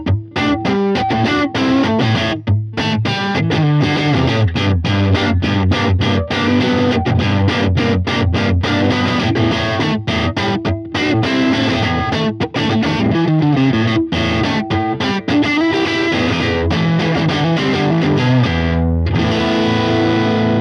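Electric guitar played through a budget Fender or Jet City tube combo amp turned up loud, dense distorted chords and riffs strummed continuously with steady rhythmic attacks and a brief pause near the end.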